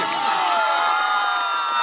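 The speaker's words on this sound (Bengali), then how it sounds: "ওর জন্য একটা হাততালি হাততালি হাততালি" A live audience at a humorous talent-style event cheers and shouts in a dense, steady roar of many voices, with children's yells and whoops mixed in, loud and continuous throughout.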